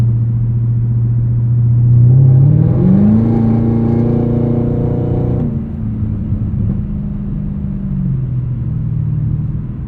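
A 2022 Chevrolet Camaro ZL1 1LE with the 10-speed automatic pulls hard: the engine note climbs in pitch and grows louder through a gear, cuts off abruptly, then settles back to a lower rumble.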